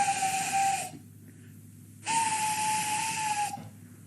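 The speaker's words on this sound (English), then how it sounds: "far away, but getting louder and louder, was the sound of an engine's whistle" A steam engine's whistle sounds in two long, steady, breathy blasts separated by a short gap, fairly faint with a hissy edge.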